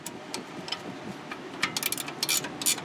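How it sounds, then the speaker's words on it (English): A 16mm wrench works a nut on a Honda Civic tie rod end, giving a quick run of sharp metallic ratchet clicks and ticks close up, irregular at first then denser and brighter near the end, with no talking. "just going to loosen this nut"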